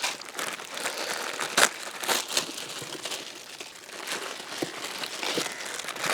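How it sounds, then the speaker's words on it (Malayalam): Maggi instant noodle packets crinkle and tear open one after another in a kitchen, a close, steady run of plastic rustling with sharper crackles and rips, no talking. "വലിയ നൂഡിൽസ് ആക്കി എടുക്കാനുള്ള മാഗി പാക്കറ്റുകൾ ഓരോന്നായിട്ട് നമ്മൾ മുറിച്ചെടുക്കേണ്ട"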